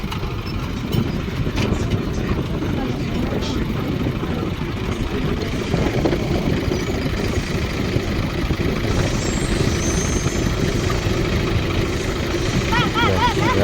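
A farm tractor hitched to a harrow, its engine running steadily and fairly loud close by for the whole stretch, with a low rumbling drone and faint background noise.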